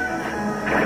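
A bomb explodes in the Nintendo Land video game, Legend of Zelda: Battle Quest, as a brief loud crashing burst with a rising swell at the end, and no talking.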